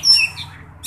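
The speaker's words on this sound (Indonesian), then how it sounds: "saya menjemur burung-burung kacerku ini" Kacer (magpie robin) birds chirping while being set out in the sun, a few short high tweets and a whistled note early on, then a brief chirp burst near the end over a low background hum.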